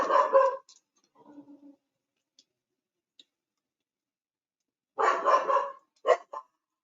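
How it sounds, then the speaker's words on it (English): A small dog barks next door, two bursts of sharp yaps separated by a quiet stretch, with a few softer whimpers and clicks between, heard alone without talk. "Can you guys hear that barking?"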